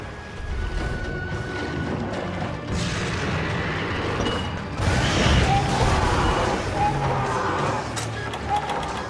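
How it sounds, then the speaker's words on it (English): Bombs thrown in the game Monster Hunter 3 Ultimate burst with heavy booms around the middle of the stretch, set amid game noise and a player talking over it. "I'm just going to throw the bombs."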